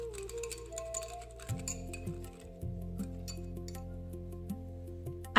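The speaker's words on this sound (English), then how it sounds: "add crushed groundnuts to the ball of curd and keep whisking the mixture" A whisk clinks lightly and rhythmically against a bowl as curd is beaten with salt, sugar and crushed groundnuts, with soft ticking taps at close range under a steady background music bed.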